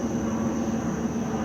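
An airplane flies low near an airport in the early morning, giving a steady, continuous roar with a droning hum that holds evenly throughout, heard alone with no talk.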